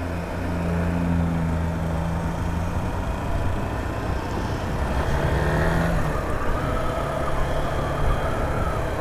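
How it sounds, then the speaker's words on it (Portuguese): Honda Bros 160 motorcycle engine braking while descending a winding mountain road near Ubatuba, a steady droning engine note with wind rush, heard close from the rider's position. "Freio motor, muito importante para não descer segurando o freio"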